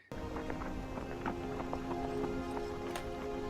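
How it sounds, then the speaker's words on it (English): Hooves clip-clop in a steady, rhythmic gallop from a horse in a fantasy television drama, heard at moderate distance beneath a constant background hum. "A horse rides."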